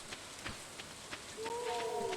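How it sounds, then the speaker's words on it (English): Rain falling in the farming video game Stardew Valley, a soft steady patter with scattered drop ticks, joined near the end by a clear sustained musical tone. "Sounds like it's raining, so I won't have to do any crop watering"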